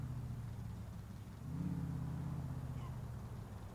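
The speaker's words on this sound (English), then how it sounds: "I'm driving Chevrolet Caprice" A Chevrolet Caprice police car with Detroit Police drives in LCPDFR, a low steady engine hum that swells into a brief rev about halfway through, then settles, faint and continuous.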